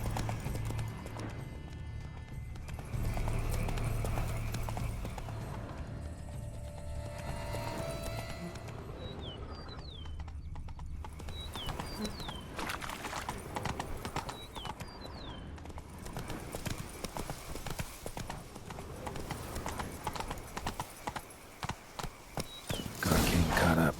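Horse hooves clip-clopping in The Witcher 3: Blood and Wine, steady rhythmic thuds under game music and ambience, with a few brief high whinnies mid-clip and a louder burst of movement near the end.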